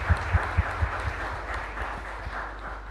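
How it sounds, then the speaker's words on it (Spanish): A brief burst of applause in a chapel during a live-streamed Catholic Mass, a few heavy claps at the start fading into a soft wash of clapping. "Un fuerte aplauso también para ellos."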